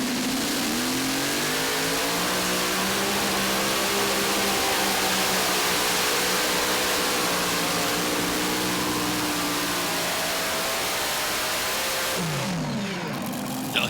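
Supercharged unlimited and modified pulling tractors with screw superchargers rev their engines loudly and continuously at a truck and tractor pull, a steady high-powered roar with shifting pitch that drops off near the end.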